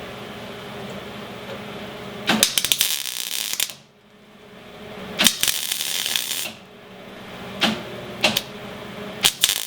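Tack welds are struck on a metal boat side, heard as several short bursts of sharp, crackling arc noise separated by brief pauses, with a steady background hum between them.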